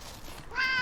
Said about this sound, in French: il y a un chat dans une poubelle